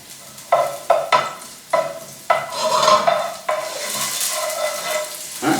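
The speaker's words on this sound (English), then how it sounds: "Alright, my onions are sauteing." Onions sauté in a pan for a vegan barbecue beef dish, giving a steady sizzle broken by several sharp stirring scrapes and knocks of a utensil against the pan, close and alone with no talk.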